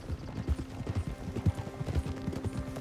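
Horse hooves clip-clop in Red Dead Redemption 2, a faint, even walking rhythm of soft low thuds with no voices over it.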